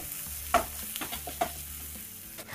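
Soya keema sautéed with chilli powder, coriander powder, turmeric and garam masala in a pan, a spoon stirring and scraping in quick strokes over a constant frying sizzle, close and clear with no one talking.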